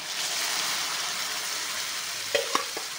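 Mung beans sautéing in a pan with garlic and onion give a steady, even sizzle throughout, close and fairly quiet, with a few sharp scraping clicks from stirring near the end.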